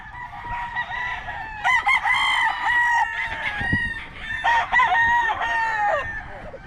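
Several chickens clucking and a rooster crowing nearby, with overlapping calls and repeated crows rising over a busy farmyard background.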